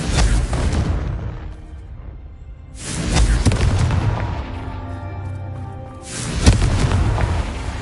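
A Confringo blasting spell in a wizard video game sets off three long, loud, rumbling explosions, each swelling and fading away, with a sharper crack inside the last one.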